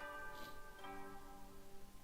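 A two-note wake-up chime from the video game Hundred Line Last Defense Academy rings out with sustained bell-like tones that decay slowly, alone and fairly quiet.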